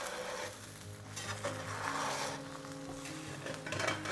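Eggs fry in a pan that is a little too hot, browning, with a steady close sizzle and light stirring scrapes.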